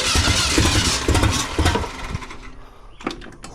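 Engine noise from a 1968 Ford F250 with a 360 FE V8 being cranked for a first start after install, a loud rhythmic churning that chugs unevenly and then fades toward a lower, rougher rumble.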